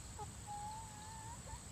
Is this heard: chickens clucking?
yes